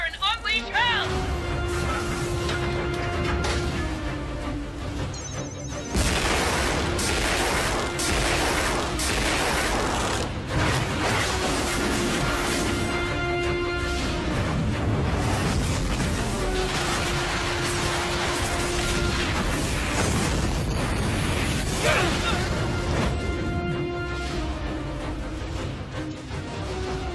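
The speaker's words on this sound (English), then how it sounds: "Bring a torrent of coil gun fire and unleash hell!" Coil gun fire and explosions from the anime Heavy Object pound in a long loud barrage of rapid shots, booms and crashes over a sustained tone, with voices shouting over the battle.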